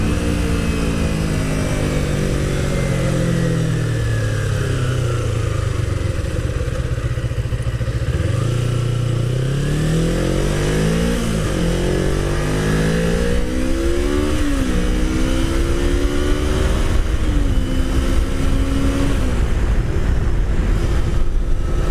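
Kawasaki Ninja 250 motorcycle riding on a road, the engine rising in pitch through the gears with shifts and drops in revs, sustained and close with wind rush, no talking.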